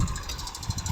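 A 2005 Fiat 480 tractor engine idles close by, its low, even diesel rumble carrying a faint rhythmic throb throughout the brief moment, with no voices over it.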